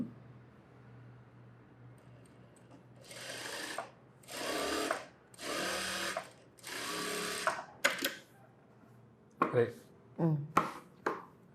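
Bursts of a sewing machine stitching a blouse in a tailoring workshop, four longer runs followed by several short stutters, close and clear with pauses between.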